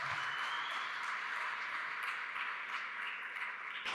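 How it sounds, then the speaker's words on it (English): Audience applause at a tech talk on retrieval-augmented generation, a steady wash of many hands clapping that holds evenly and fades slightly toward the end. "Round of applause."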